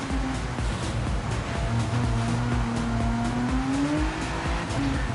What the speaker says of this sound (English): Revving the absolute nuts out of that Corvette